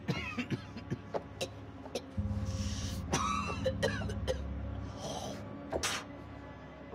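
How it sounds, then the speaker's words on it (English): Repeated harsh coughing and throat clearing from a character in the video game The Dark Pictures: House of Ashes, close and loud in several bursts, with a low rumble beneath. "That's a nasty cough."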